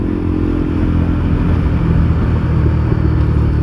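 A KTM 390 Duke motorcycle being ridden on Yorkshire roads, a steady, loud low engine drone with wind rumble, even and unbroken throughout, with no voices.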